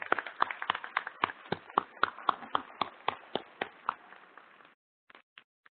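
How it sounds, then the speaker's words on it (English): A round of applause at a 2017 Southern University Law Center commencement, heard as a steady run of sharp, distinct claps, as from a small group or one pair of hands, that stops abruptly and is followed by a few scattered claps. "Let's give her another round of applause"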